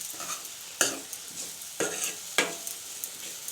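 Drumstick leaves being sautéed in a pan, with a soft frying hiss broken by several sharp, close scraping stirs at irregular intervals and no talking.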